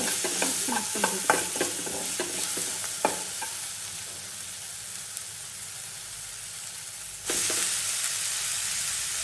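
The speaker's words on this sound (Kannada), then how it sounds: "ಇವಾಗ ಸ್ವಲ್ಪ ಮಸಾಲೆ ಪುಡಿ ಮಿಕ್ಸ್ ಮಾಡಿಕೊಂಡು ಟೊಮೆಟೊ ಜೊತೆಗೆ ಚೆನ್ನಾಗಿ ಮಿಕ್ಸ್ ಮಾಡ್ಕೊಳ್ಬೇಕು." Masala powder is stirred into frying tomatoes: a run of quick scraping clinks over a steady sizzle, then a pause and a louder burst of hissing.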